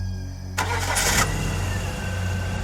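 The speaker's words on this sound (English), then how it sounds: "Thankfully, the engine roared to life." A car engine cranks briefly and catches, then settles into a loud, steady running rumble close by.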